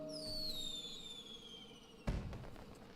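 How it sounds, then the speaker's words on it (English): Fireworks in the video game Dragalia Lost: a descending whistle glides down for about two seconds, then a single sharp burst pops and crackles briefly, with no talk. "Fireworks!"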